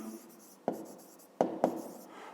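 A pen scratches out a fifth-grade maths exercise, soft strokes with three sharper taps as it touches the surface, close and quiet with no talking.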